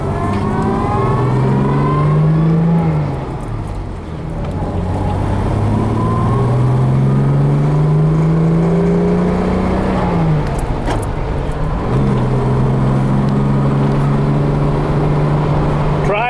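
A 1960 Jaguar Mk 2 with the 3.8 liter engine drones loudly from inside the cabin while driving in fourth gear, its pitch climbing and dipping as it accelerates and eases off, with a brief gear change near the start.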